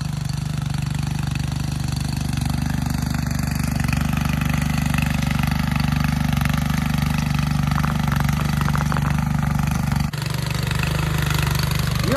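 A mini tractor engine, used for ploughing, runs at a steady low throb with a constant mechanical drone and some rattling, close by and loud, briefly dipping near the end; no one speaks over it.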